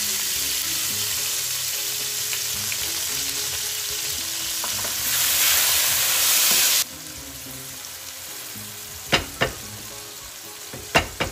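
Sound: onion frying in a pan

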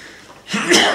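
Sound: sneeze

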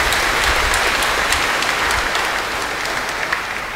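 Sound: congregation applauding the newly ordained priests

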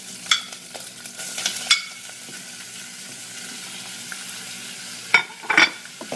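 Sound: shrimp stir-frying with curry paste in a pan

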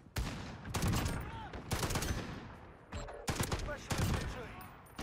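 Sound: FAL burst rifle gunfire in a video game

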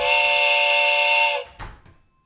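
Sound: doorbell chime playing train whistle

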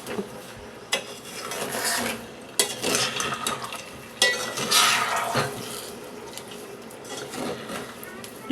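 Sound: stirring amla jam with melting sugar in a pot

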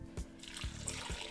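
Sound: water being poured into Instant Pot insert with potatoes

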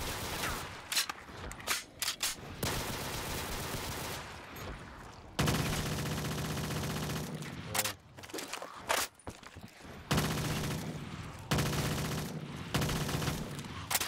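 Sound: gunfire in video game Black Ops 3 Custom Zombies

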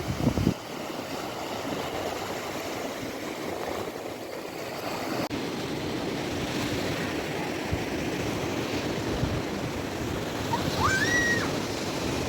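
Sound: sea waves at an Odesa beach

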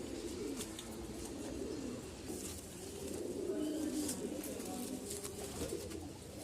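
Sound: racing pigeons cooing

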